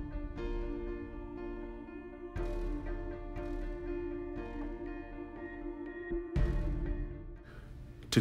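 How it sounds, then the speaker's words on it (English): Allen wrench working bolts loose from a vacuum pump plate, with close metallic clicks and ratcheting scrapes in short bursts over a steady background hum. "using your set of Allen wrenches, remove the first three bolts attaching the plate to the pump."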